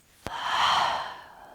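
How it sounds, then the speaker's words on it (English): A slow, airy exhale through the mouth during a guided yoga breathing exercise, a soft breathy whoosh that swells and fades after a brief click, heard close and alone. "And breathing out through your mouth."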